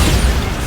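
Bombarda, the explosive spell in Hogwarts Legacy, lands as a short, loud, dense burst of boom, close and full for under a second.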